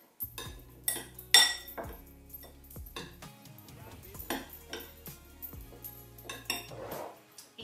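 A spoon scraping and clinking against a bowl while stirring peach filling for a peach crisp, with irregular knocks and clanks of utensil on dish, close and moderately loud, no talking.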